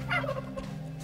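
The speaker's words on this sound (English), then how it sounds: "there was pretty small turkeys in here." Small turkeys gobbling in the survival game Soulmask, a short burst of fowl gobbles over a steady low game hum, moderately faint.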